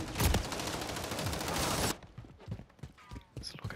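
Heavy automatic gunfire in Modern Warfare 3 for about two seconds, a dense continuous barrage that cuts off abruptly, followed by scattered quieter shots, clicks and movement sounds.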